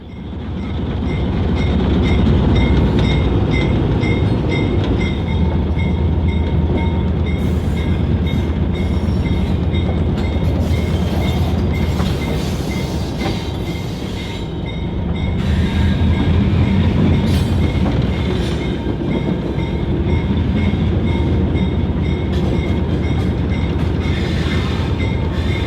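An excursion train rolls along the former Tennessee Central Railway mainline toward Rockwood, a loud continuous rumble of wheels and cars heard up close with steady clatter throughout and no talking.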